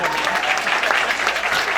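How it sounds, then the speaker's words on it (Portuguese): Audience at a university event on femicide applauds, a loud, continuous wash of clapping with voices faintly mixed in. "palmas para a Karine também, por favor."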